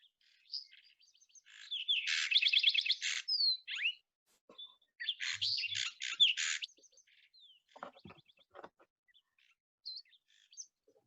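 A lark sparrow sings clear, bright phrases of rapid trills, buzzes and sweet whistled notes, in bursts separated by short pauses, with no other sound around.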